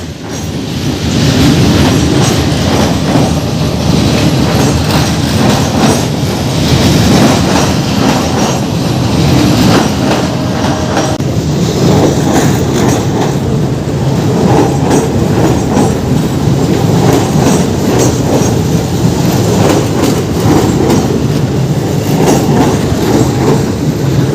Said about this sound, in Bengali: যে এখন ট্রেনটা পাস করলো এই ট্রেনটা আসছে বিহারের পাটনা জংশন থেকে